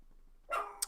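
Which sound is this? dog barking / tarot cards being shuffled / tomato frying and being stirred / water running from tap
dog barking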